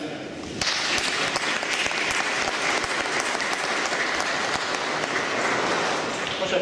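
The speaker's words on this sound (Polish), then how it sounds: "Myślę, że oklaski." Sustained applause from an audience honoring the authors of a photo album about the parish church in Puck, Danuta and Jan Delek; dense steady clapping starts abruptly and continues evenly throughout, fairly close.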